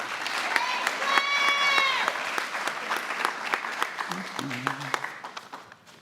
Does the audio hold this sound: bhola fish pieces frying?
no